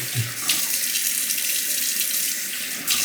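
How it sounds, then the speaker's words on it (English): Tap water runs steadily into a sink, rinsing a Shumate straight razor blade, a close, even hiss of flowing water with a couple of faint splashing bumps. "Just gonna rinse the blade real quick"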